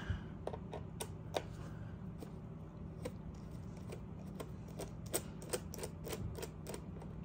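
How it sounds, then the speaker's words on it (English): Screws come out of the bottom of a PowerBook 3400c laptop with faint, scattered clicks and ticks of a screwdriver over a low steady hum. "You'll have three screws to remove on the bottom of the unit."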